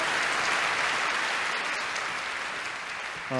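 A hall audience bursts into sustained, even applause welcoming a doctor of Korean medicine to the stage, dense clapping holding steady at full level for several seconds before easing slightly.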